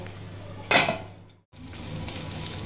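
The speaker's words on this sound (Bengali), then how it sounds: "মাছটা একটু ধিমি আঁচ দিয়ে অনেকক্ষণ ধরে ভাজবেন।" Fish frying slowly in a covered pan over low heat, a steady quiet sizzle with a brief louder burst of crackling and a short gap, close by with no talking.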